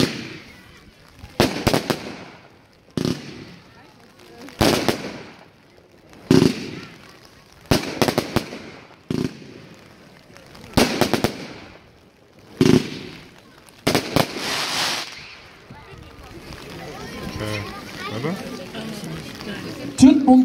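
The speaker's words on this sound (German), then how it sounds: "Eine 5er Salven-Effektbatterie mit Abwechslung in den Farben, mit den Aufstiegen, sowohl imposante Bouquets und ein lautstarkes Finale." A five-shot fireworks effect battery fires repeated launches in a regular rhythm, each a sharp thump with crackling bursts of bouquets, building to a louder, denser finale, with a voice talking throughout.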